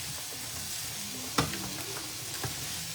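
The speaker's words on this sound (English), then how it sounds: "These are 2 medium zucchinis. Gonna mix this with all of this. And we're gonna cook these for 4 to 5 minutes." Two medium zucchinis cooking in a skillet with garlic herb chicken, a dense, even sizzle with one sharp clatter midway and a softer knock near the end, no talking.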